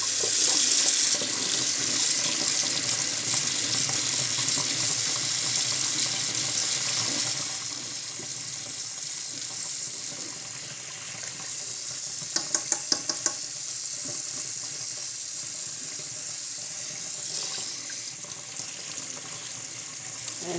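Tap water runs steadily into a sink while makeup brushes are rinsed, a continuous close hiss with a brief cluster of small knocks partway through, no talk.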